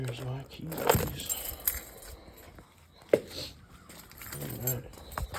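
Car keys for a 2013 Dodge Charger jangle in a garage, a couple of bright metallic jingles between quiet stretches, with someone talking nearby.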